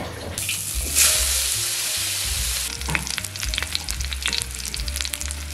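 Mushrooms and tofu puffs stir-fry in a claypot with a loud steady sizzle, a sharp hiss near the start, then scraping and clattering stirring strokes over continued frying.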